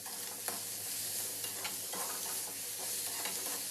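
Chopped ridge gourd skin with turmeric and salt sizzling in a hot pan while a spoon stirs it, a steady, faint frying hiss broken by small scraping stir sounds, no voices.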